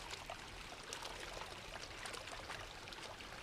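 Creek water flows and trickles in a steady, even rush near a camping spot, faint in level but continuous with no other sounds.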